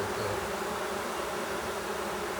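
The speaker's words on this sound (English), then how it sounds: "There's a lot more bees. And they sound good." Honey bees fan in a hive, a dense, steady buzzing drone heard close up with no pauses throughout.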